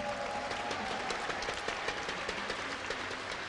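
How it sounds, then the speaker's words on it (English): Applause from the crowd at the 2012 Gamescom IEM StarCraft 2 finals, a steady wash of many hands clapping that fills the whole moment with no voices on top. "So please give him a big round of applause."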